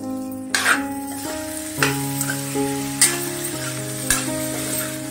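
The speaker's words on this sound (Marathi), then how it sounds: "चांगली भाजी कोथिंबीरीमध्ये परतून घ्यायची पुन्हा एकदा" Elephant yam sabji with fresh coriander sautéed in ghee with cumin and chili, a soft sizzle broken by several distinct spatula scrapes and taps against the pan, set against a steady background hum, with no one talking.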